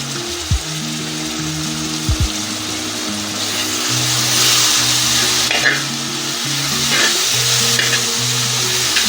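Tomatoes sizzle steadily as they fry in a pan, with the scrape and clatter of stirring over them. A few sharp knocks ring out near the start, and no one speaks.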